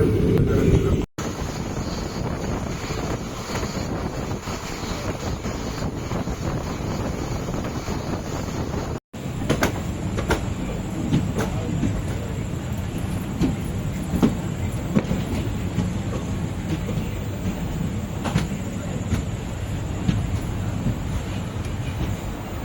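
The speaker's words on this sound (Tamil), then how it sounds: "6:55க்கு நம்ம ட்ரெயின் இங்கேருந்து கிளம்பிடுச்சுங்க" An Erode to Jollarpettai passenger train runs steadily on the rails, with constant rumbling, wheel clatter and wind buffeting across the microphone throughout.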